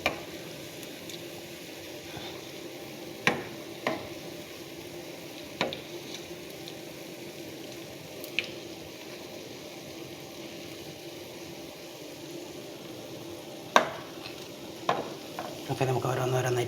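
Semolina snack batter frying in hot oil, a continuous soft sizzle punctuated by occasional sharp clinks and stirring scrapes, close up and fairly quiet, without speech.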